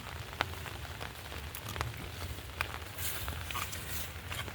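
Rain patters steadily outdoors near a field, a soft, fairly faint hiss with scattered closer drops and a few sharper taps, no talking.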